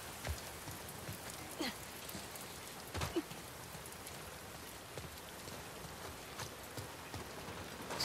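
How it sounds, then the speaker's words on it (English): Steady rain falls in The Last of Us Part II, a soft continuous hiss of drops on surfaces with a few louder close spatters, fairly quiet and alone with no talking. "Oh, it's starting to rain."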